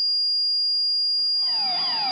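A Paradox alarm keypad sounds after being removed from its mount, setting off its tamper alarm. A steady, piercing electronic tone holds throughout, and sweeping warbling tones join it during the final second.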